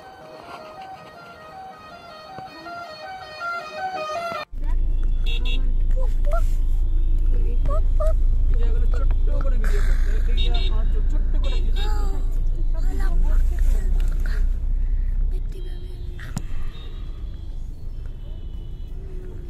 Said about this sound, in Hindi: ट्रैफिक जैम, यहाँ पे ट्रैफिक जैम होता रहता है।